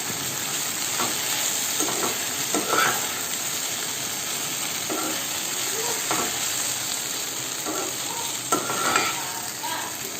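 Okra, or ladies finger, is stir-fried in a pan, giving a dense, steady hiss of frying throughout, with occasional spatula scrapes and stirring knocks, close by and continuous, with no voices.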